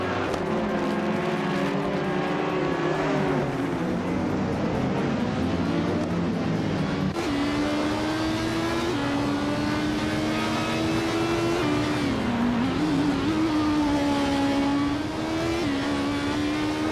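Race car engines in a racing video game, several cars droning and revving close by with rising and shifting pitches as they jostle for position, loud and continuous throughout.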